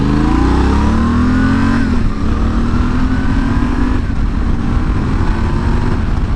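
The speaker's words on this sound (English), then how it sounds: "There's a car coming" A car approaches and passes close by a motorcyclist riding in a dual sport coat, its engine note rising and then dropping, heard over the steady loud drone of the motorcycle's own engine and wind.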